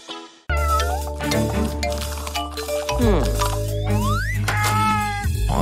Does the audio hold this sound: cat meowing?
yes